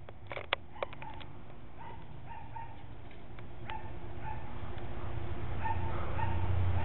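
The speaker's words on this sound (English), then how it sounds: "There's my brother's dog, Abby." A few short, sharp yips and barks from a chow and German Shepherd mix come early, followed by rustling and a growing low outdoor rumble.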